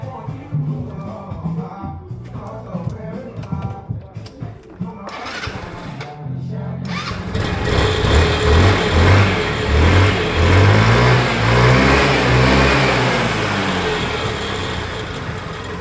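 A 125cc scooter with its electric choke disconnected starts and idles, then revs up and holds a loud, steady running note close by after a rougher, stuttering opening.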